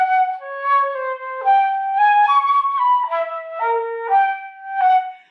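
A Messiaen rhythm is played as a clear, sustained melodic line of pure tones, with sixteenth notes in accented groupings. Stepping notes shift pitch in a lilting pattern, close and alone.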